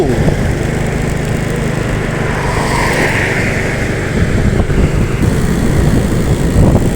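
A Handoyo NPM V20 bus drives past at night on a Palembang city street, its engine making a loud, steady drone with no pauses and no voices over it.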